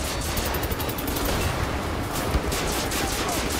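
Rapid gunfire in the video game Wolfenstein: The New Order, a dense continuous burst of automatic shots with crackling impacts, loud and sustained throughout.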